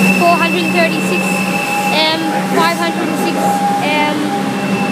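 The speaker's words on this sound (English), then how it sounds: "we also have a train arriving. It is an EDI refurbished common." A refurbished EDI Comeng electric train arrives at Melbourne Central underground station. A steady rumble and hum from the train fills the platform, with brief brake squeals and faint station chatter.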